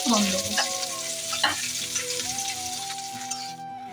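Red lentil dal tempered with dried chillies and onion in hot oil, a loud burst of sizzling that settles into steady frying with spoon stirring and ringing pan tones, close up and without voices.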